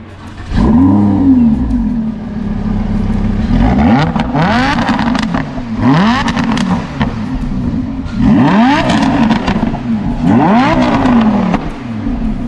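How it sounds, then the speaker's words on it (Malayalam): A Lamborghini Huracan's 5.0-litre V10 engine revs hard again and again, five or so sharp rising blips that fall back to a throaty idle, loud and close. "ഈ ഒരു V10 എഞ്ചിൻ്റെ 5000cc ഈ ഒരു എഞ്ചിൻ്റെ സൗണ്ട് കൂടെ ഒന്ന് ജസ്റ്റ് കേൾപ്പിക്കാം"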